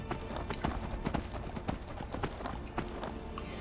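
Horse hooves clip-clop in steady, fairly close footfalls in the video game Skyrim, a brisk rhythm of sharp knocks continuing throughout.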